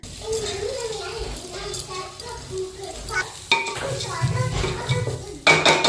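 Mung dal stirred in a pot of hot mustard oil with bay leaf, dried chilli, cumin and ginger, a spoon scraping and clattering against the metal over a sizzling hiss, with a louder clank near the end.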